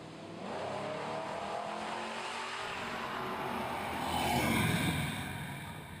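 Drag race cars accelerate at the CK Nationals 2014 event, a distant, rushing engine roar that swells louder toward the end before easing off, with no talk.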